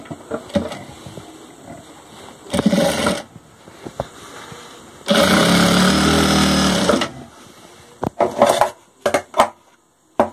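A sewing machine stitches a seam on a kurta in short bursts of rapid mechanical whirring, with one longer run in the middle, separated by pauses filled with handling clicks and rustles.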